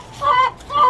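A chicken in a garden clucks twice in quick succession, close and loud, with no talk over it.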